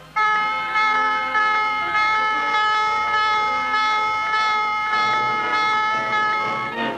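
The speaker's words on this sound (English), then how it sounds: "the calm of the day is broken as general quarters sound" A loud, harsh general quarters alarm aboard a navy destroyer blares continuously, pulsing in repeated rising surges about once per second, with a steady low hum underneath.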